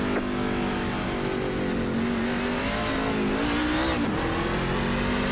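NASCAR trucks in iRacing accelerate together at the race start at Nashville Superspeedway, a dense, loud, continuous roar of many engines with pitch sweeping upward as the pack gets going.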